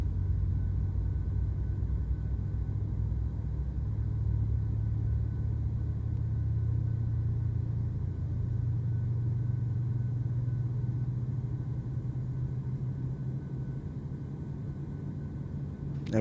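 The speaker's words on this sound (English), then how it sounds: "Sounds like another good start on engine number 1." A Boeing 737-800 jet engine spools up during startup in Microsoft Flight Simulator 2020, a steady loud low rumble and hum holding throughout with no talk over it.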